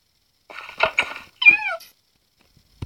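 An ocelot in a Minecraft-style game gives a few short close meows and a squeaky rising cry, followed by a faint thump.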